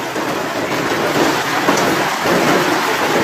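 Severe thunderstorm in Italy with giant hailstones, a loud dense hiss of falling ice and rain pounding surfaces continuously, with low rumbling thunder beneath.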